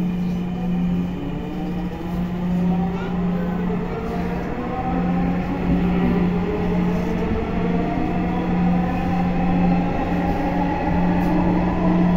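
A Dhaka metro rail train bound for Motijheel moves along with a loud, steady rumble and a constant low hum, heard from inside the carriage, with no voices.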